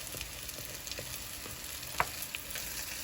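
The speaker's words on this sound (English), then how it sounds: "listen for your grease sound" Hot water cornbread fries in hot grease with a steady, close crackling sizzle and scattered small pops throughout, quiet and continuous with no talking.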